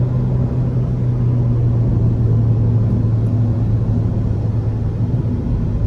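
Ford Fiesta ST engine driving hard on a very twisty back road, a loud steady low drone with a constant engine hum throughout, no talking over it.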